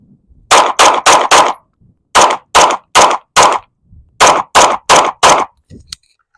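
Loud, close pistol shots fired in rapid strings during continuous-control shooting practice: three volleys of four evenly spaced cracks each, with short pauses between strings and a faint click at the end.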